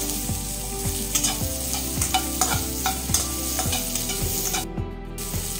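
Onion, garlic and ginger sizzle in hot oil for a crab and coconut milk dish, with a steady frying hiss and regular scraping strokes of a spoon or spatula, close and fairly loud, with no voices.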